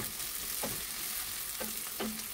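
Chopped onions sizzle steadily in hot oil in a pan, a continuous broad hiss with a few short scraping stirs, while a beef stew (menudo) is being cooked; no voices.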